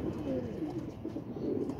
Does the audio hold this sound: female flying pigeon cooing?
yes